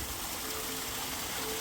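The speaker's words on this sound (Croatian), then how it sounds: "Pronašli smo i jedan vodopad" Small waterfall on the Krivača river, a steady broadband rush of falling water that stays even and unbroken throughout, close and continuous with no voices.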